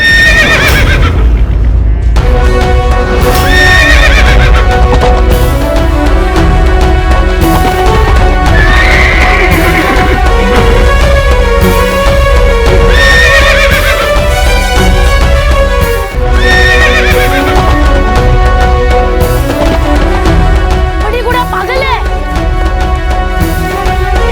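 A horse in a historical Maratha-era drama about Peshwa Bajirao neighs loudly and its hooves clip-clop, set against a continuous swell of dramatic orchestral background music, with no talking.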